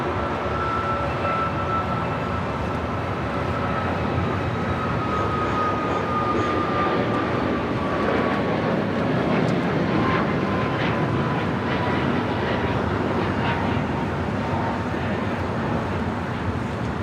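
A Cayman Airways airliner moving at LAX produces a steady, moderately loud jet engine rumble with a thin turbine whine slowly drifting lower in pitch, heard from some distance with no voices.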